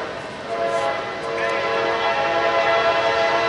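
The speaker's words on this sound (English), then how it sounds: "Here comes another train southbound by Folkestone on the number one track" A CSX freight train passes southbound through Folkston on the main track, its horn sounding steady tones over the low rolling rumble of the wagons, loud and close.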